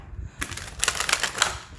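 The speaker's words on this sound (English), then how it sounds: "while I'm shuffling" A tarot card deck being shuffled: a quick run of crisp, papery clicks and flutters lasting just over a second, close and fairly soft, with no talking.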